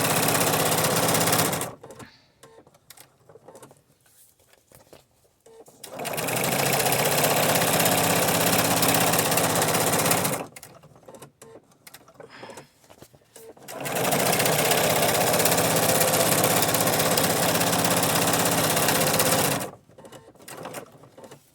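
A sewing machine stitches a junk journal cover in two long, steady runs, each lasting several seconds, separated by quiet pauses, with a brief final burst at the end. It is loud and close, with no talk.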